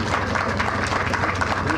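Audience applause fills a new library in Rancho Mirage, a brief, dense burst of clapping from a crowd that holds steady throughout.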